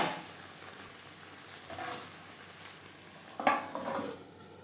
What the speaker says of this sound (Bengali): মাংসের সাথে টমেটো বেশ ভালো করে মিক্স করে দেবো